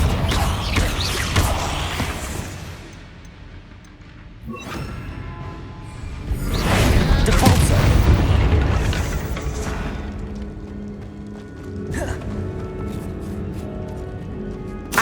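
Repeated Confringo fire spells blasting apart a barricade in the video game Hogwarts Legacy, loud crackling bursts and crashing debris swelling and fading over several seconds, with no talk.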